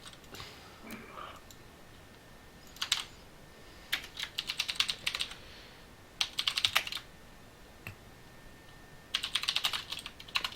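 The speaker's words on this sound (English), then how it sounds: "I forgot what I was typing." Quick bursts of computer keyboard typing come in clusters separated by short pauses. The keys are moderately close, and a faint voice murmurs briefly near the start.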